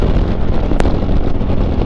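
Wind roaring past the rider on a Harley Davidson Road Glide Special fitted with soft lowers, a loud continuous rumbling buffet close to the microphone with one brief sharper gust, no talking.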